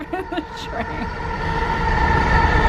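A driverless SkyTrain runs in Port Moody, British Columbia. Its rolling rumble swells from moderate to loud as the car picks up speed, with faint tonal sounds and voices briefly heard at the start.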